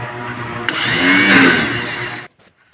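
Starter motor with its bendix engaging cranks the engine of a mini tractor built from a walk-behind tractor, a loud whirring spin-up lasting about a second and a half before cutting off abruptly into near silence.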